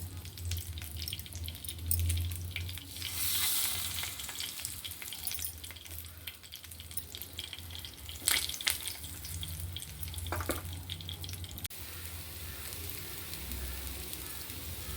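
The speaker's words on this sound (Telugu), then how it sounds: "ఇలాగ అన్ని కన్నాల్లో ఒక స్పూను ఇడ్లీ పిండి వేసుకోవాలి" Idli batter spooned into the oiled wells of a paniyaram pan over a medium flame gives a steady sizzle, with brief clinks and scrapes along the way and no talking.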